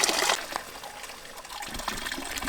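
A mountain spring fountain on an alpine trail in Val Zemola trickles and splashes steadily, close and continuous, with a brief louder gush at the start.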